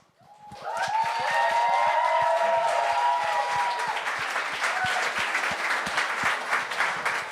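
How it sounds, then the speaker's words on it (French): A comedy show audience breaks into applause, swelling quickly to a loud, dense wash of clapping with rhythmic claps pulsing underneath and some cheering, staying strong to the end. "Faudrait applaudir avec moi, let's go."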